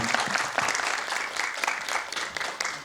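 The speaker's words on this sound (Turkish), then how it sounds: "Hak ettiler diyenler alkışlasın." A crowd claps steadily, a dense burst of applause that stays loud throughout with no pauses.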